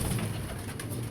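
A pigeon coos in a soft, low, throaty burble, close by over a steady background noise with no speech.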